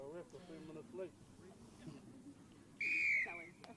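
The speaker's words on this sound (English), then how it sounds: "And there's the starting whistle" Referee's starting whistle at a Baywide Premier women's rugby match, Ruatoki vs Mt Maunganui, at an outdoor park: one loud, sharp blast near the end that follows commentator talk and crowd murmur.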